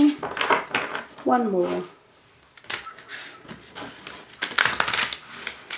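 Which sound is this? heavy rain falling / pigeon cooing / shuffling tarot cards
shuffling tarot cards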